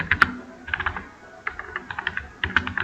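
Fingers type on a computer keyboard in uneven bursts of close, crisp clicks with short pauses, as text is entered into a new file during a git tutorial.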